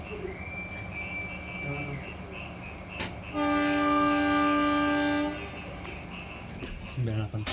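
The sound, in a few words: Kauripan train departing Leles station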